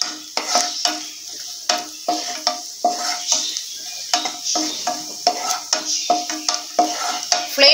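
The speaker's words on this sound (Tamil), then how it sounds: "முந்திரி பருப்பை போட்டு ஃபர்ஸ்ட் வறுத்து எடுத்துடலாம்" Cashew nuts fry in hot ghee over a medium flame, a steady close sizzle broken by a rhythmic run of spoon scrapes and taps against the pan.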